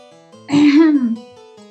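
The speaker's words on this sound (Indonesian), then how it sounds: "Pria itu berdeham." A man clears his throat once, a short rough vocal rasp, close and fairly loud, with no other talk.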